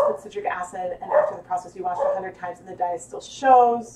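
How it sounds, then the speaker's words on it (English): A dog barks in short yips from inside a crate, near and fairly loud, the barks scattered beneath continuous talk from a woman explaining something. "I'm so sorry about the barking."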